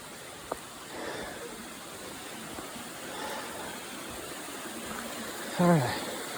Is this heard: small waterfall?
yes